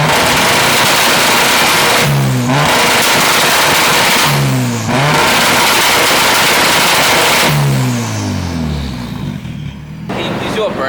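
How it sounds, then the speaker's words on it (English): A K24-swapped Nissan 240SX revs hard in a home garage, its engine climbing in three loud rising sweeps with a roaring, continuous mid-range drone; people talk over it. "Can you please do a burnout to test the integrity of the engine?"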